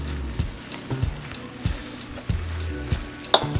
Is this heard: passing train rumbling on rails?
no